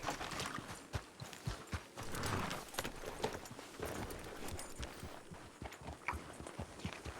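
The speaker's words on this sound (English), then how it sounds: "Oh my God! So many horses." Many horses walk in a Red Dead roleplay video game, hooves clip-clopping in irregular overlapping steps on hard ground, with a brief snort or whinny partway through.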